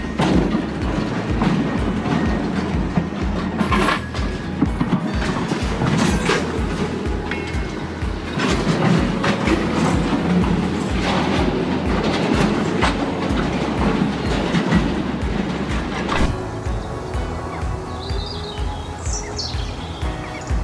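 Rail cars rolling along tracks, a loud steady rhythm of clickety-clack wheel beats over rail joints with continuous rumble, and birds chirping faintly toward the end.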